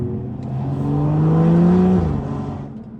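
A BMW 435 with the N55 engine, tuned to Stage 2 with about 500 hp, revs while driving, its engine note rising steadily, holding loud and near, then dropping back as the throttle eases.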